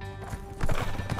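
Hooves clip-clop rapidly from a horse in The Escapists 2, a quick run of close, rhythmic thuds over a busy game soundscape.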